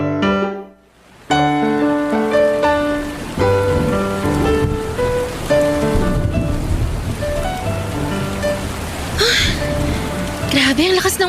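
Heavy rain pours steadily over a waiting shed, a continuous wash sitting under a prominent melodic music bed, with a voice briefly present.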